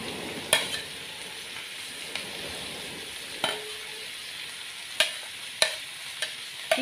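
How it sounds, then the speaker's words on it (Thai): Bell pepper and carrot sizzle steadily while being stir-fried in a pan, with sharp scattered clacks of a utensil against the pan over the frying, close and without talk. "ผัดรวมกันค่ะ"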